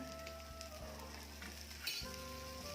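Prawns fry in shallow oil with a continuous close sizzle and crackle, a brief louder spatter near the end as a piece is moved; no talk.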